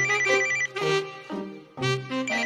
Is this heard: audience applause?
no